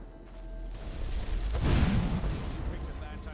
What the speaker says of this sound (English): Fire Blast. A fire explosion for 90 points.